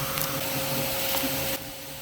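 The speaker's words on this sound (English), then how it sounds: "I came back over and started vacuuming everybody up" A vacuum sucks up yellow jackets at their nest, running with a loud, steady whine and hum, with faint clicks and knocks of insects hitting the nozzle before the pitch drops slightly near the end.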